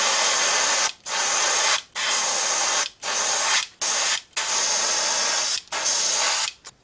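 An airbrush sprays transparent paint onto the underside of a chrome spoon lure in about eight loud, steady hissing bursts separated by brief gaps, close up with no talking.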